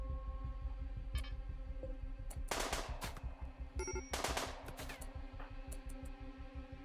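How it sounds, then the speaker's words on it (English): Gunfire in the Rimworld video game on an ice sheet map: rapid bursts of shots and sharp cracks come in clusters over a steady low throbbing hum, with no talk. "Now, we can shoot and dodge, and we can do this all day long."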